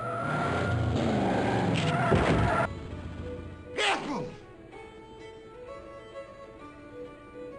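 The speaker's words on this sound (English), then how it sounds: "That was a car." A car speeds past in the Broken Sword point-and-click game, a brief loud whoosh around the midpoint over a music and ambient background, with game dialogue spoken before it.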